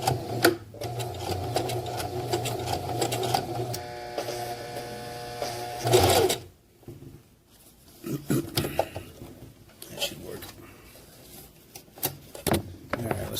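A sewing machine stitches through nylon PALS/MOLLE webbing on an accessory pouch, its motor running in steady bursts, then a pause as the handwheel is cranked for a final stitch, followed by a short reverse back stitch run.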